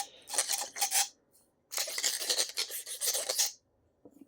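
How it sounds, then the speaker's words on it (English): Silencer baffles being scrubbed with a nylon brush: two bursts of brisk, close, raspy back-and-forth bristle scrubbing separated by a short pause, with a faint tap at the end. "we're going to use our nylon brush and just"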